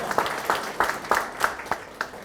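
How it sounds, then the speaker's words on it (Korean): An audience at a Korean party members' meeting claps in quick, steady unison, the sharp regular beats moderately quiet and evenly spaced in a packed indoor room. "우리 서로를 위해서 다시 한번 큰 박수 부탁드리겠습니다"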